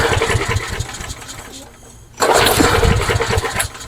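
An old lawn mower engine, hot from running, is being restarted: loud close engine roar that dips briefly and then surges back up, steady and rough.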